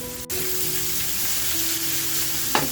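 Fish pieces coated in rice flour or semolina sizzle steadily in a hot pan, a close, continuous frying hiss with a brief clink partway through and no talk.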